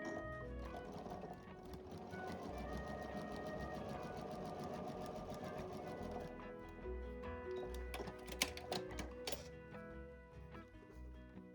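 A sewing machine runs steadily, stitching along the folded fabric edge of a paper-pieced quilt block, its dense rapid mechanical chatter continuing for about six seconds before giving way to lighter clicks and handling taps.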